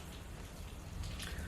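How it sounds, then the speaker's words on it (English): Rain falls outside in a soft, steady patter of drops, distant and continuous, with nobody talking. "right now it is raining outside"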